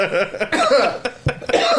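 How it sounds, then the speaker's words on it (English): A voice sputters through a run of rough, throaty coughs and hacking bursts, close and fairly loud, with no clear words between them. "Cough, cough, cough."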